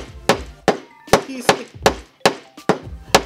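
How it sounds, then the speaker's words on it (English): Sharp hammer blows drive nails into a wooden cornhole box, about eight loud knocks in an uneven rhythm close by, with brief talk between strikes. "Let me get 2 more nails. I'm going to use this as my hammer."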